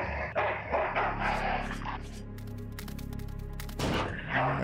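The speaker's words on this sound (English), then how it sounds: "And there is a dog in here." A dog barks in Full Throttle Remastered, several loud close barks in an uneven burst, with game music and other effects around them.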